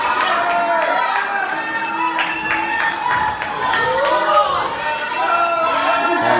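A lucha libre wrestling crowd roars and cheers steadily throughout, a dense wash of voices with whistles and scattered shouts rising in waves, the audience split between two wrestlers.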